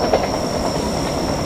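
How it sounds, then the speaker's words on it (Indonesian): A local Cibatuan train pulled by a CC201 locomotive rushes past at speed near Gedebage station, a loud close continuous roar of wheels and rails with a steady high whine over it. "ditarik oleh lokomotif dinas CC201 ya, keren banget nih kecepatan kereta di spot ini"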